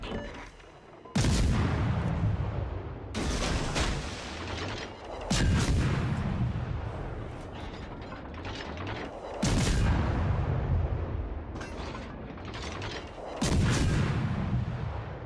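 Heavy naval ship guns fire at the battleship Wisconsin in a naval combat video game: about five loud booming salvos arrive every few seconds, each followed by a long rumbling decay.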